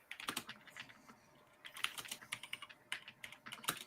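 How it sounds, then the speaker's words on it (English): Fast, clattering bursts of typing on a loud computer keyboard, with rapid key clicks in clusters separated by short pauses, close and alone. "your keyboard's too loud"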